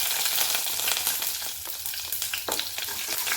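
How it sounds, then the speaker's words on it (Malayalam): Garlic frying in hot coconut oil after mustard seeds have popped, a loud, dense, continuous sizzle with a few sharper crackles, close up and without talk. "വെള്ളം പൊട്ടിക്കഴിഞ്ഞാൽ നമുക്ക് വെളുത്തുള്ളി ഇട്ട് കൊടുക്കാം."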